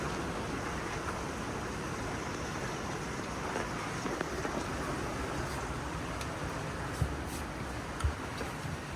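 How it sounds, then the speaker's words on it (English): Heavy afternoon storm rain pouring outdoors as a dense, steady wash of broadband hiss, with a few faint knocks and drips and no talking. "We are being blessed by rain."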